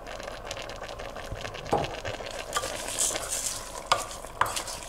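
Rice being stirred into a hot pan for Greek gemista stuffed vegetables, with a soft continuous sizzle and irregular scraping strokes and a few sharper clicks of the spoon, close by and moderately quiet.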